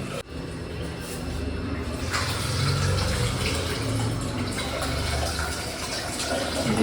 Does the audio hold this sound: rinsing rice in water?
yes